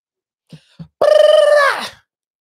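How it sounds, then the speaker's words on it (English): A person does a voiced tongue trill, rolling the tongue in one loud, buzzing burst of about a second that trails off, after two short soft vocal sounds. "I know you know how to vibrate your tongue like that."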